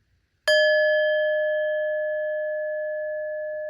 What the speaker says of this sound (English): Let's ring the bell again.